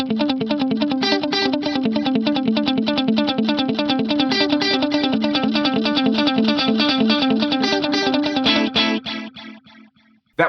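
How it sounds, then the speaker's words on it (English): Guitar delay repeats with a rotary effect applied, a steady rhythmic run of echoes that starts dry and turns wobbly and swirling, loud and continuous before fading out in the last couple of seconds. "The first repeat will be dry and then it will be super wobbly"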